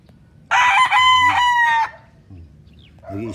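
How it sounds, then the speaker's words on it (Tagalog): Rooster on a large Philippine breeding farm crows once, a loud, close, drawn-out call lasting over a second, with faint clucks and background noise around it. "Nag-establish na ng territory, kaya po yan ay tumitilaok."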